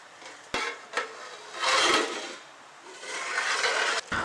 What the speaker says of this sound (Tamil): அரிசியை ஆட் பண்ணிவிட்டு இது மாதிரி லைட்டாக மிக்ஸ் பண்ணிவிட்டு